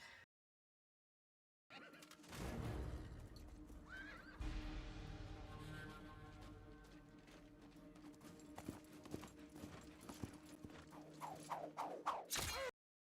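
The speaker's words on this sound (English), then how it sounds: "So, a guard comes riding down the path, and Maximus throws his sword at him." A horse ridden down a path in the film Gladiator, with a mount whinnying and hooves clip-clopping at close range, a steady gallop rhythm running under the action and a sharp neigh near the end.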